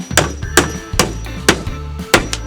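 A hammer lands five loud, close blows at uneven intervals, each a sharp crack with a short ringing tail, on a homemade build in a space with mouldy corners.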